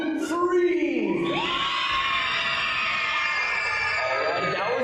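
Audience at a cosmic bowling event screaming and cheering loudly together on a count of three, a dense sustained roar of many shouting voices with children's shrieks, close and continuous throughout.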